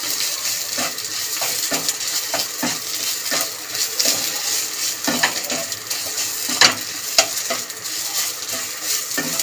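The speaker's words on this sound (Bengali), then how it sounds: "অল্প একটু চিনি, নাড়াচাড়া দিয়ে নেব" A spatula stirs kharkol leaf paste seasoned with salt and sugar in a hot pan, giving a steady sizzle broken by repeated scraping strokes and a few sharp clinks against the metal, with no talking.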